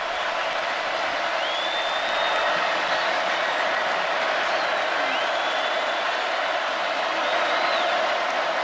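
A stadium crowd at an Alabama vs LSU college football game roars in a loud, continuous wash of cheering, with occasional whistles rising above the din.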